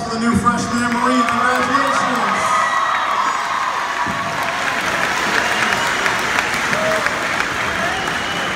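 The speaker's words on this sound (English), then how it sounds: "How about a big round of applause for the new freshman in Marine?" Students cheer and applaud for new freshmen in a marine services program at a school welcome event, with whoops and shouts over steady clapping and voices calling out early on.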